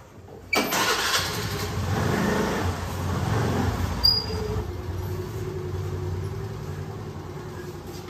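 A scooter engine starts abruptly, then settles into a steady, moderately loud idle rumble that continues to the end, with a brief click partway through and no speech.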